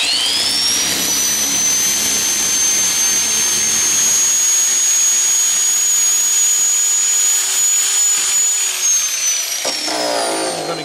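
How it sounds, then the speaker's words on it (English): Power grinding tool cutting and shaping a block of marble, a loud continuous high-pitched whine held steady for about ten seconds before winding down near the end, close and alone. "So now we're just going to get our grinding tool and do this."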